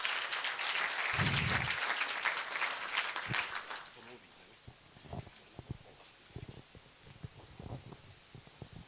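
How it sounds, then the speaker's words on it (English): Graduation ceremony audience applauds for about four seconds, broad steady clapping that then fades into scattered claps and a voice speaking. "Mr. Solumko and our CEO, please give them a round of applause."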